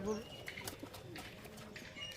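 High-flying pigeons coo in a loft: a few soft, low coos come early, then scattered faint chirps and rustles under a quiet murmur of voices.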